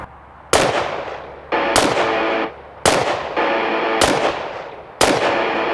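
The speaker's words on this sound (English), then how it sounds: "we're just gonna put 5 rounds up there in a good tight little group, taking our time for every round" Five loud, close rifle shots from a shooter firing a tight group in freezing conditions, evenly spaced about a second apart, each a sharp crack followed by a lingering rumbling echo.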